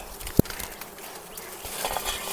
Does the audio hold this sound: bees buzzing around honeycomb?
yes